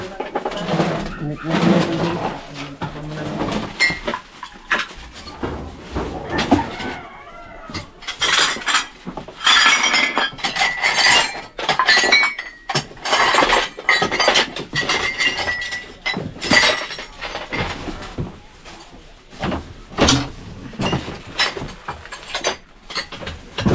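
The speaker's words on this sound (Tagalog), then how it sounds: "Basag-basag." Broken glass shards and debris being picked up and shifted by hand during a cobra search in Morong, Rizal, giving repeated close clinks and clatters at an irregular rhythm, with brief talk now and then.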